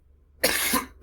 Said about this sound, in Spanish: No, estoy con tos.